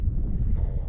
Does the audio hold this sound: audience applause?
no